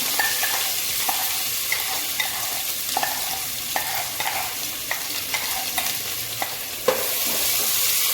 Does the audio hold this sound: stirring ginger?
yes